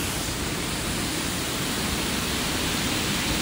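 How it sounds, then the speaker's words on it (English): A waterfall in Oregon, heard from right underneath the falls, pours as a loud, steady, broadband roar that holds without a break and with no voices. "I'm underneath the waterfall."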